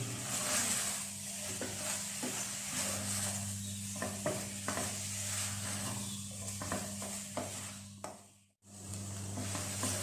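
A spoon steadily stirs salt and dried coriander for a chicken samosa filling in a bowl, giving a close, continuous scraping hiss with scattered light clicks and a brief drop to near silence near the end.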